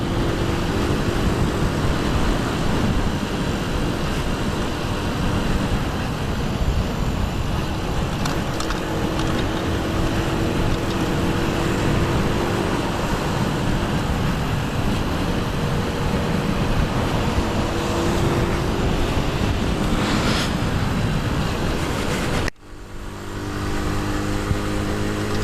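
A Sinnis Max2 125cc motorcycle on the move gives a steady, loud engine drone mixed with wind and road noise, which drops away briefly near the end.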